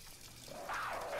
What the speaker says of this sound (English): I gotta fill the kettle with water to make tea